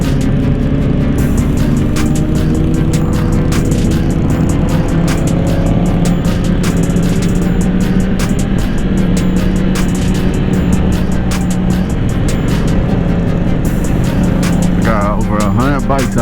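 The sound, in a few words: over 100 motorcycles riding on freeway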